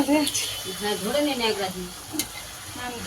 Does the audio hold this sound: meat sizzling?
yes